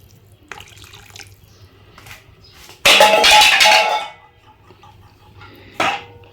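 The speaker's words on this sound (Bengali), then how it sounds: "আর একটু জল দিয়ে দিচ্ছি।" Water pours from a tap into a pot of dal being cooked, a loud splashing rush lasting about a second, followed by a faint clink and a brief later splash.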